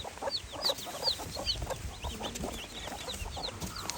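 Many native country hens cluck and chatter continuously at close range, with short sharp calls overlapping in a busy, steady flock noise.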